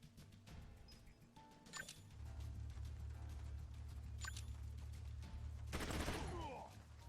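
Sharp, quiet shots from a suppressed gun in the tactical game Troubleshooter, three brief isolated cracks spaced a few seconds apart over a low, steady background hum.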